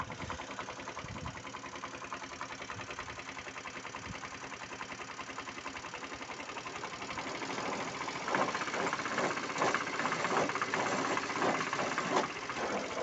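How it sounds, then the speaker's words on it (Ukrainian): A mini tractor running a homemade vibrating potato digger: a steady engine idle that swells louder partway through, with a rattling, knocking vibration layered over the running motor. "Зробив саморобну копалочку, вібролапа. Зараз покажемо, як вона в роботі."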